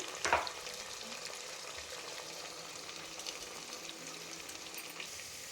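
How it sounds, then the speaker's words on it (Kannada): Field beans (avarekalu) frying with salt in a pan make a soft, steady sizzle, with one brief clatter near the start, close by and fairly faint. "ಅವರೆಕಾಳು ಫ್ರೈ ಆಗೋದಕ್ಕೆ ಸ್ವಲ್ಪ ರುಚಿನೂ ಸೇರಿಸ್ಕೊಳ್ತಾ ಇದ್ದೀನಿ."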